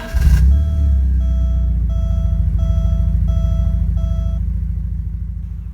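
A 1987 Porsche 924S engine cranks briefly, then catches and settles into a loud, steady idle with a rhythmic low rumble. A faint repeating beep sounds over the idle.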